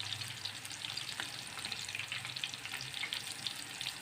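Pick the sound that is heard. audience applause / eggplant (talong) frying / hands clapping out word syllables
eggplant (talong) frying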